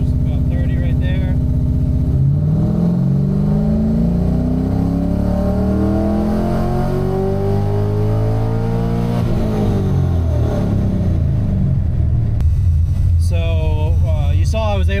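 An LS-swapped Mazda RX7 revs loudly and up close while held on a dyno, the engine note climbing steadily then falling, with a brief voice at the end.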